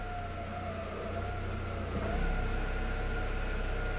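Audi A6 with a 1.8T engine idling after a throttle body cleaning, a steady low hum with faint tonal whine lines running continuously, a slight shift midway, with no speech.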